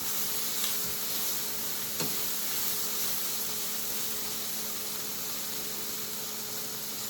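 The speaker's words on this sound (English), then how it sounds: "Crisping up some of this fat here" Smoked bacon fat crisping in a hot pan, a dense, even hiss that runs steadily and close throughout, with a couple of faint knocks and no talking.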